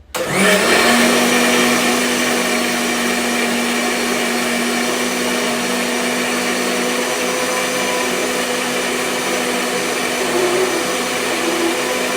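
A mixie grinds wet masala with a little water added, its motor whining loud and continuous from start to finish with a steady droning hum and no pauses.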